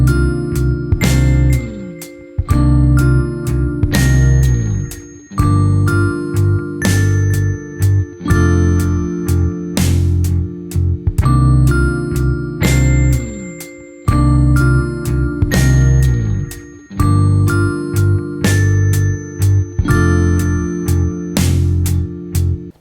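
Bell-like electric guitar notes run through a Dyna Comp compressor pedal, spelling out chords as loud, bright, evenly spaced plucks with long ringing decays, repeating in a steady pattern with no voices.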